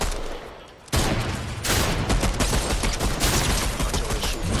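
Rapid, dense bursts of Fortnite gunfire crackle loudly and continuously after a short quieter lead-in, sounding like sustained automatic fire from close by.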